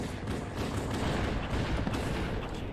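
Continuous rapid gunfire from a video game shooter, dense overlapping shots and bursts filling the whole stretch at steady loud level with no talk.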